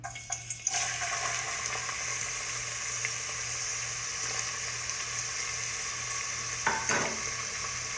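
Garlic and ginger fry in hot mustard oil over low gas, a steady close sizzle with occasional stirring clatter from a spoon against the pan, no voices.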